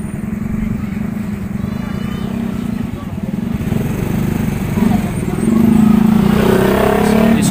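Motorcycle engines drone along a road still littered with debris a week after Super Typhoon Odette in Lapu-Lapu City, Cebu, growing louder and closer toward the end, with a voice talking over them.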